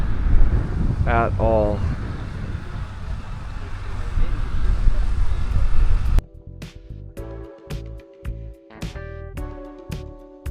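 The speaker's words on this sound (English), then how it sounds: "It is super windy" Strong wind buffets a camera microphone at a Riu Palace resort lounge in Playa del Carmen, a loud continuous low roar with a brief voice over it, cutting abruptly to quieter tonal, choppy sound after about six seconds.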